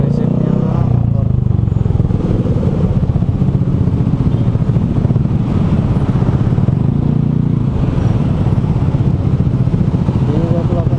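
Motorcycles rumble past on a street in Bintaro, a continuous loud engine drone with clatter that rises and falls, partly under a speaking voice.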